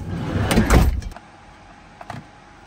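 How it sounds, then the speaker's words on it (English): A van door slides and shuts with one loud, close thump, followed by quieter clunks and settling rattles inside the vehicle. "Shut the door."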